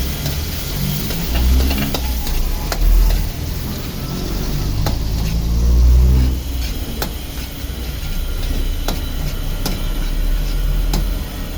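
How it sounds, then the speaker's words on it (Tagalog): Onion, garlic and ginger being sautéed in a pan, a loud, continuous sizzle with rhythmic stirring strokes and scattered clicks, close up and with no voices. "So, gigisa tayo ngayon ng sibuyas. Bawang sibuyas."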